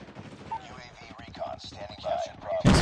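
Shooter video game gunfire: a fast run of clipped shots under continuous talking, ending in a loud broadband blast.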